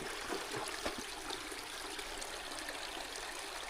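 River water flowing outdoors on a rural Nova Scotia property, a steady broadband rush with light trickling detail, fairly close and constant, no voices.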